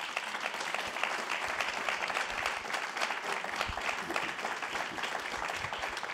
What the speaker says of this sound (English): And please give them one more round of applause.